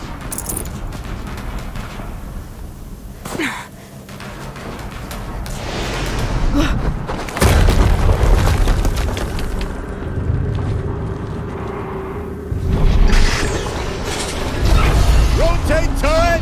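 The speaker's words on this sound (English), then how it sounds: "Another explosion." Explosions in the Horizon Zero Dawn Remastered video game: two heavy booms burst out over continuous mechanical whirring and clanking machinery, loud and close.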